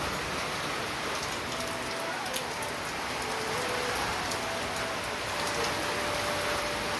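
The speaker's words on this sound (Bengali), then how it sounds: "কি অন্ধকার করে বৃষ্টি আসছে।" Steady rain falls continuously, a dense even hiss of drops on surfaces with no clear breaks, moderately loud and close, with no voices over it.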